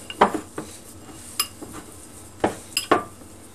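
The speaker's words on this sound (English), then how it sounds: "I'll knead the spices" Spices are kneaded by hand into meat inside a bowl, with scattered clinks and soft knocks against the bowl at irregular intervals, close up and alone.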